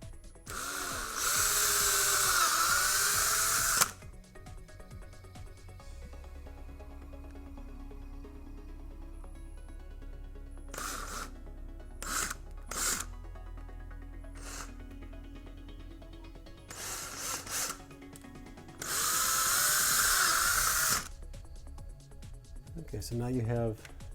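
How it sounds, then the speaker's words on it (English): A power drill whines loudly in two sustained bursts, once at the start and again near the end, with brief rattling and handling noises in between. "go ahead and drill a hole"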